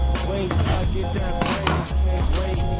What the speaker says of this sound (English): now I'm going to cut them in strips